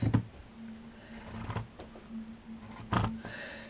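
Old, heavy pinking shears snipping the end off a piece of fabric, a few crisp separate cuts at a steady pace, close and fairly quiet with no talking.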